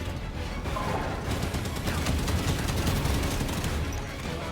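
Dense Halo 5: Guardians gunfire crackles continuously in rapid volleys, loud and close, with a chaotic battle wash and no pauses.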